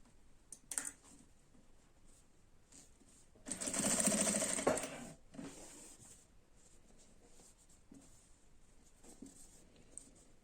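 A sewing machine stitches a short, loud run of about a second while patchwork pieces for a mosaic pillow are sewn together. Scattered clicks and handling noises come before and after, and no one speaks.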